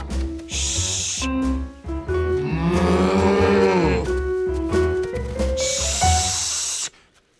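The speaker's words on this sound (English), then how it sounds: "How could he quiet the cows?" Cartoon cows moo in a loud, drawn-out series of bellows with rising and falling pitch, several overlapping calls filling the scene with no talk over them.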